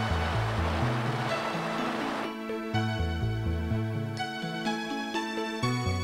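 Rushing waterfall in Pokemon Platinum: a broad hiss under looping chiptune music that drops away after about two seconds, leaving the melody alone.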